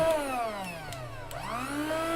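A vacuum sealer pump runs steadily, a continuous close motor whine whose pitch sweeps down and then up again as the bag empties, with no talk.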